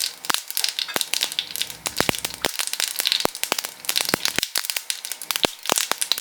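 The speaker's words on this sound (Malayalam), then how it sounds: "കടുകൊന്ന് പൊട്ടി വരട്ടെ" Mustard seeds pop and splutter in hot coconut oil in a pan, giving a dense run of sharp, irregular crackles, close and lively.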